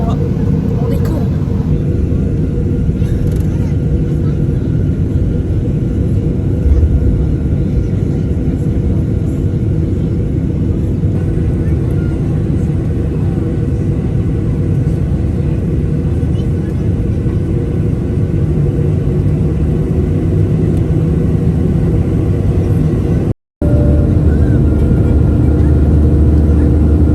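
A loud, steady cabin rumble fills the space as a passenger airliner takes off on a flight to Punta Cana, with a deep roar that holds evenly throughout.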